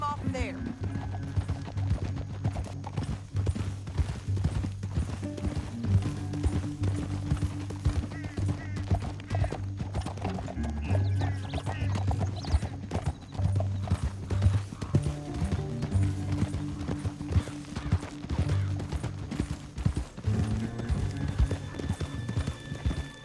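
Horses galloping in the video game Red Dead Redemption 2, a fast, continuous clatter of hoofbeats with layered game sounds running beneath it throughout.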